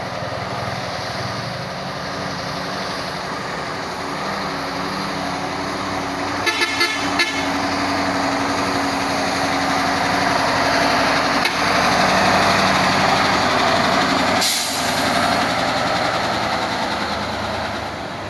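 Heavily loaded trailer truck grinding up the steep Bukit Kodok hill, its engine droning loud and steady throughout, with a couple of brief horn toots partway through.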